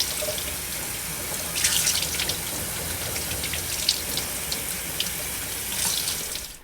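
A kitchen sink tap runs steadily while hair is rinsed under it, a continuous close water stream with brief splashy surges as the flow hits hair and basin.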